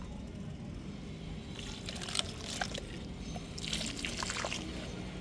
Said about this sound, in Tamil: இனிமேல் தண்ணி கொடுத்துடலாம்